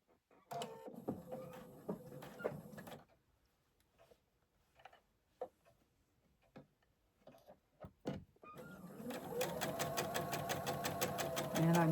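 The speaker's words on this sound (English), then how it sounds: "And I'm just stitching corner to corner." Sewing machine stitching fabric corner to corner, running in two steady mechanical bursts, one at the start and a longer one at the end, with quieter handling sounds between.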